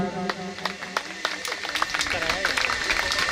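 Audience clapping with both hands at a Mata ka Jagran devotional night, a run of sharp, fairly regular claps beneath a loud singing voice and music.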